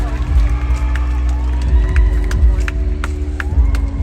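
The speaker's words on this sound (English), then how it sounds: "a round of applause for Bea" A loud pageant crowd at a coronation night cheers and shouts, with a busy roar of voices and some clapping blending into a dense, continuous din.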